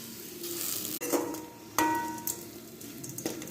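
Grated coconut sautés in a pan with mustard seeds, curry leaves and dried red chillies for coconut rice. A soft, steady sizzle runs under a few spoon scrapes and light clinks, with no talking.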